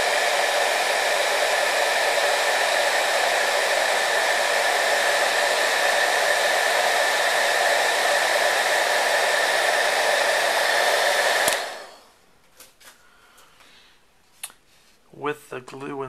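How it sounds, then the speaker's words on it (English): A heat gun shrinks heat-shrink tubing on a carbon control rod, its steady loud blowing roar running continuously for about eleven seconds before cutting off, leaving a few faint clicks and handling noises. "grabbing a heating gun, shrink the tubing"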